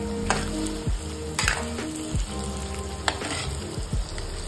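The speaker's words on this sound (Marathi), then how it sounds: "आता हे आपलं पूर्ण फ्राय करून झालेलं आहे बटाटा, कांदा" Diced potato and onion frying in a pan for upma, a steady loud sizzle broken by repeated scraping stirs of a spoon against the metal at a brisk rhythm.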